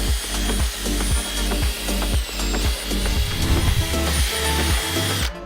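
A small drill bit boring into wood on a homestead chicken coop, a close, steady power-tool whine with rhythmic ratcheting pulses and brief pauses, loud and without talk.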